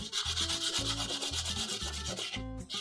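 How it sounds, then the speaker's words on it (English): Coarse sandpaper rubs briskly against the tip of a drawing pencil in rapid back-and-forth strokes, a close, steady scratchy rasp. "Now I'm going to get my coarse sandpaper out and get that corner out as fast as I can."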